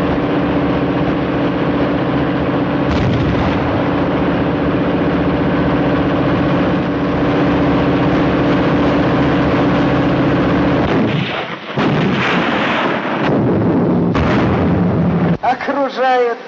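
Tank engine rumbling loudly as it reverses in a war film battle, with heavy anti-aircraft gunfire and explosions continuous over it, a sudden break near the end followed by more bursts and shouting voices.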